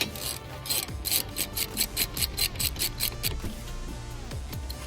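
Close ratchet clicks tighten a brake caliper bolt on an Acura RDX during a front brake pad change, a quick even run of clicks that then fades into softer mechanical scraping.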